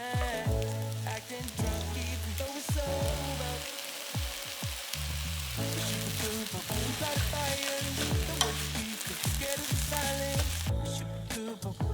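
Eggs fry in a hot pan with a steady crackling sizzle, broken by repeated scraping and stirring strokes of a utensil, continuous and close throughout.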